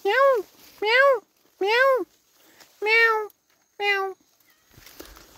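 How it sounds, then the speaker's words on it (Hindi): A cat meows five times in steady succession, clear and close, in a quiet outdoor setting in a mountain village with vegetable gardens. "यहाँ पर बिल्ली"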